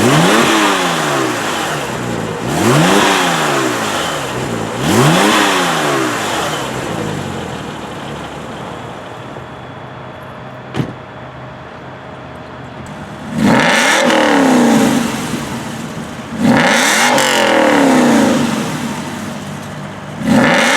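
A Porsche 911 Turbo and an Aston Martin V8 Vantage rev their engines in repeated sharp bursts, rising and falling several times with a brief lull between groups of revs.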